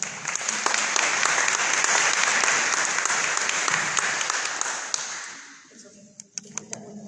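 An audience at a Minnesota GOP gubernatorial debate applauds Dr. Jensen in a loud, sustained burst of clapping that fades out after about five seconds, leaving a few scattered claps and quiet room sounds.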